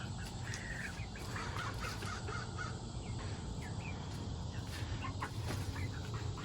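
Noisy outdoor scene with fowl clucking and cawing at moderate distance over steady background rumble.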